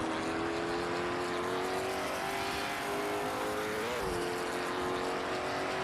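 Porsche race cars at Silverstone in the Assetto Corsa game, their engines droning loud and steady with rising and falling pitch under hard braking and acceleration, continuous throughout with no talk.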